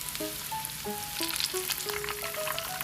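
Breadcrumb-coated okra sizzles in hot oil, a steady crackling fry close by, while a melody of sustained tones plays over it throughout.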